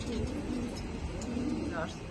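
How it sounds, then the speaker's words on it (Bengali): Female racing pigeons, raced through a limited club, coo softly in a loft: low, steady rounded calls over a constant background hum, with faint human voices mixed in. "এখানে দেখতে পাচ্ছেন তিন পিস মাদি কবুতর দেখতে পাচ্ছেন"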